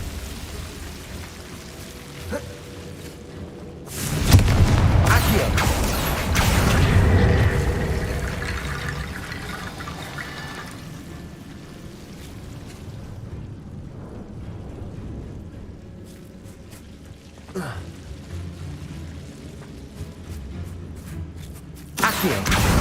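Confringo blasting spell explosions in Hogwarts Legacy, a heavy rumbling burst that surges loud and trails off over several seconds, then smaller scattered impacts and crackles over game ambience.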